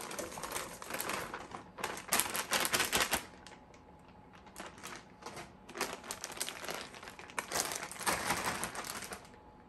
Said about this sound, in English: Now that the broccoli has been rinsed and shaken a little bit